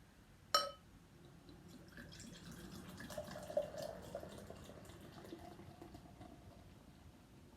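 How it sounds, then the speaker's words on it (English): After a brief sharp click, beer is poured into a pint glass with a quiet, steady fizzing gurgle, close up and faint. "Pour out into the pint glass."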